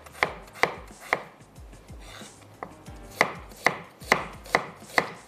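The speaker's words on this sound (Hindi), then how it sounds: "ये जो हमारे पास प्याज है इसको मैं थोड़ा सा रफली स्लाइस या चॉप कर लेते हैं" A knife chops onion on a board in about a dozen sharp, fairly regular strikes, close and crisp with brief pauses between cuts.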